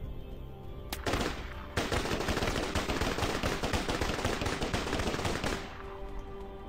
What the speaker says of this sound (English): Oh my god, the kick on this gun.